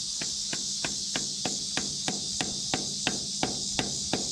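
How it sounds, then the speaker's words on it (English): A screwdriver is hammered into a 1936 International T20 crawler tractor with about a dozen evenly spaced metallic strikes, steady and moderately close, over a constant high hiss. "Beat the screwdriver in there."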